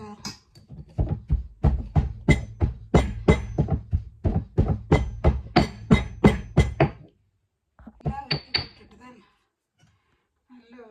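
A ladle stirs in a cooking pot with a quick, regular run of knocks and scrapes close up, then a pause and a few more strokes.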